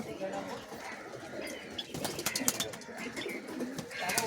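Pigeons at a house coo softly amid rustling and brief wing flaps, and a voice speaks over them partway through.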